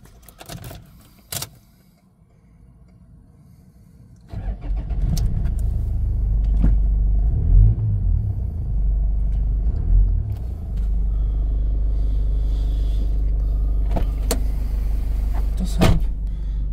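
A 1996 Toyota Land Cruiser Prado turbo diesel 4x4, lifted, cranks briefly then catches and settles into a loud, close, steady diesel idle rumble with a few sharp clicks on top.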